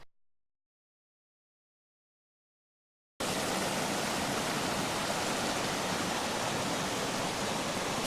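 River feeding Battle Creek Falls flowing along a hiking trail: after three seconds of silence, a steady dense rush of water starts abruptly and holds unbroken, moderately loud, with no voices.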